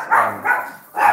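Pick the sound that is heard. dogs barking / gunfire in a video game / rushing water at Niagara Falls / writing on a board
dogs barking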